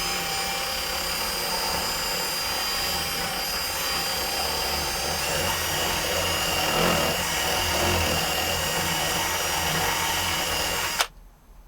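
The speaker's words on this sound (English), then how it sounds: "So I'm going to use that drill" A loud, steady electric drill whirs continuously for about eleven seconds, then cuts off abruptly.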